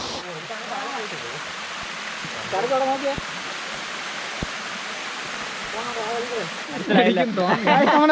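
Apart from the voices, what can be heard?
water flowing over rocks and falling down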